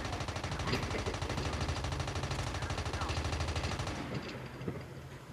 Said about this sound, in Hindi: मुझे आसपास कहीं गन चलने की आवाज आ रही है।